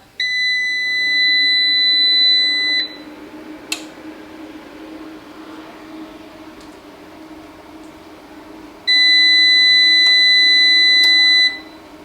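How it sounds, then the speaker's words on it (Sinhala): EASUN Isolar SMV III 3 kW inverter powering on: a loud, steady electronic beep of about three seconds, a sharp click, then a second long beep several seconds later, with a low fan hum running underneath throughout. "ලොං බීප් දෙකකට පස්සේ මේක ඔන් වුණා ෆෑන් එකත් ඔන් වුණා"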